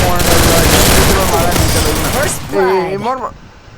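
Gunfire in the video game Garena Free Fire, a loud, dense burst of rapid automatic shots that dies away, followed by a voice speaking near the end.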